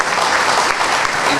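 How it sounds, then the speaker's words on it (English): A dinner audience at an annual gala in Burbank claps together in a dense, steady burst of applause that fills the room. "How about a round of applause for all of those who worked on making tonight possible?"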